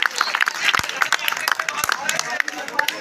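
Audience applause at a student fresher party as a candle is lit, scattered sharp claps with crowd chatter and an announcer's voice over them.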